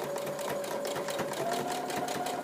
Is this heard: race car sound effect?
no